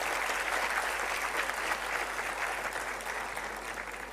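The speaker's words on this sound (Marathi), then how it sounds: "जोराने टाळ्या वाजून त्यांचं अभिनंदन करावं." Audience at a live Rajarshi Shahu Maharaj 150th birth anniversary event applauding, dense sustained clapping from many hands that fades slightly toward the end.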